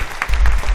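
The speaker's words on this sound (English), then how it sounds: "We do have claps here" A short burst of crowd applause plays as a sound effect on a live talk show, a quick flurry of claps lasting under a second.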